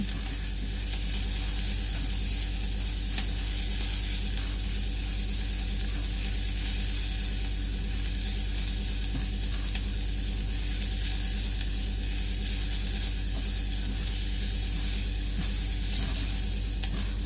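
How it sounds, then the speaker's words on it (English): Diced onion sizzling loudly in a pot for a portobello mushroom lasagne, with a dense continuous crackle and the scrape of a spatula stirring throughout. "I'm going to get a spatula so that we can mix our onion up."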